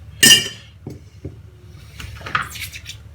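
A die-cast Matchbox Superkings Jaguar XJ6 bonnet drops into a glass jar of caustic soda with one sharp clink, followed by a few smaller rattles and taps as it settles.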